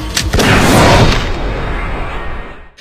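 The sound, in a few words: gunshot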